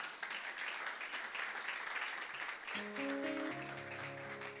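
A church congregation applauds and cheers for the Lord, with dense steady clapping throughout and a sustained organ or keyboard chord entering partway through.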